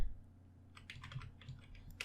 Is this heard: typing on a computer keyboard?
yes